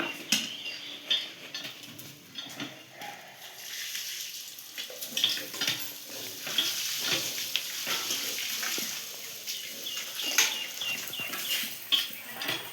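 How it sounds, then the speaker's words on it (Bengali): Food frying in a pan and being stirred during home cooking: a constant bright sizzling hiss with scattered scraping clicks, fairly loud and close, with no one talking. "হেভি রান্না হচ্ছে।"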